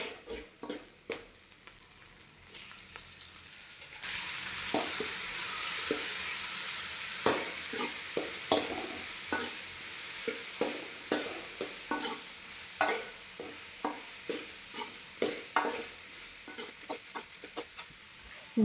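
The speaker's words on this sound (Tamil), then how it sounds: "இந்த தக்காளி கூட கொஞ்சம் உப்பு சேர்த்து வதக்குனிங்கன்னா தக்காளி கொஞ்சம் சீக்கிரமாக வதங்கிடும்" Onions and tomatoes sauté in a pan for pea curry, a continuous soft sizzle broken by regular scraping stirs of a spoon against the pan, fairly quiet and without speech.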